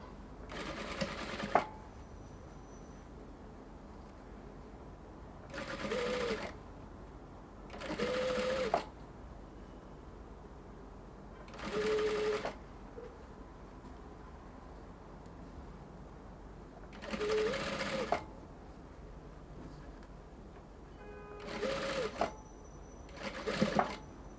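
A sewing machine stitches Ankara fabric and lace in six short bursts of rapid whirring, each run a few seconds long, separated by quiet pauses in a calm room.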